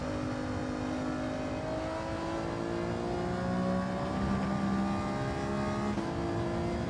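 Race car engine revving high in a racing video game, a loud sustained whine with rising and falling pitch as the car accelerates, running alone without talk.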